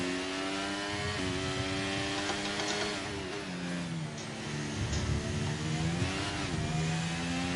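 F1 racing car engine from a video game, a steady loud high-pitched whine with gear-shift dips and rising revs around 1 and 6 seconds, continuous throughout with no talk.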